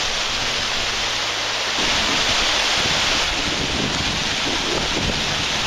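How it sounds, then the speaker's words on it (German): River water rushes and breaks against a bridge pillar on the Hunte river, a loud continuous roaring wash with wind buffeting the microphone, no voices. "Hier ist gerade so ein Brückenpfeiler und da bricht sich das Wasser halt"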